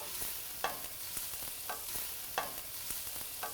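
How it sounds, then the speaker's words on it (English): Onion and garlic sautéing in a pan before plum tomatoes go in for a Swiss chard pasta sauce, a faint even sizzle punctuated by periodic stirring scrapes, close but quiet and wordless. "Now we saute the onion and the garlic a little bit"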